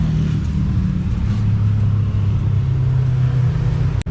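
A motor tricycle engine runs steadily with a deep, close, continuous rumble and a slight rise in pitch partway through, then cuts off abruptly at the end.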